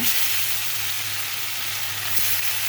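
Fish frying in a pan in a home kitchen, a loud steady close-up sizzle of hot oil that holds unbroken throughout, with one small clink partway through.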